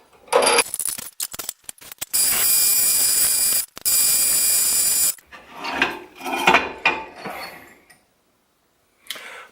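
A worn hand tap cuts M10 x 1.25 threads into a caliper bolt hole during an Africa Twin fork swap, making harsh rasping, grinding bursts, two long and loud, then shorter scraping strokes and a pause.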